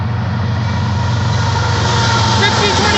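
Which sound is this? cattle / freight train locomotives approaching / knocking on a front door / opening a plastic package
freight train locomotives approaching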